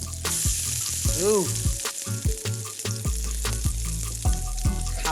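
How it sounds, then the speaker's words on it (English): Fritters sizzle loudly in a hot frying pan after being flipped, a continuous close crackle with utensil clinks and scrapes, and a brief vocal exclamation. "Once you can see the bottom of the fritter crisping up, they're ready to be flipped."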